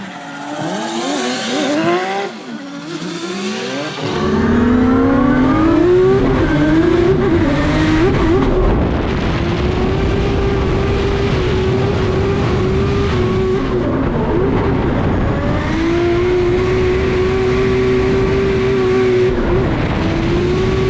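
Drift cars in a national drifting competition run side by side, engines screaming loudly at high revs with rising and falling pitch, tires squealing throughout.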